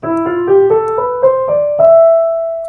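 A keyboard plays a rising E Phrygian scale on the white notes, eight notes stepping upward at an even pace, the last note held and ringing out.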